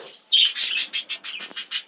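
Parakeets of the Texas clearbody mutation, mostly females, chirp inside a breeding aviary: loud, close, rapid bursts of sharp high tweets in quick succession.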